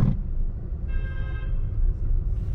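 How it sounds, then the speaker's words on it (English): A car horn honks once in San Francisco city traffic, a short steady tone heard over the low rumble of a car interior, moderately distant and not very loud. "probably a pretty well-deserved honk there"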